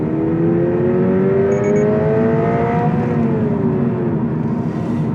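Subaru BRZ tS engine revving hard after a downshift into second gear, a loud, close, steady rising engine note that climbs and then eases slightly, heard alone with no talk.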